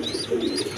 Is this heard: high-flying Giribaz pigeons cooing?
yes